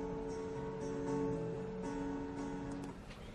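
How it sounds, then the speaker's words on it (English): Two guitars mixed together and captured by only two microphones, sustained plucked notes holding steady pitches at moderate level with no talk over them. "we've got a couple of different guitars."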